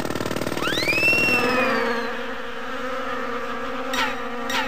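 A cartoon bee in the children's video game Adiboo: Magical Playland gives a loud, close buzz with swooping rising and falling tones, then fades into a quieter drone with a couple of sharp clicks near the end.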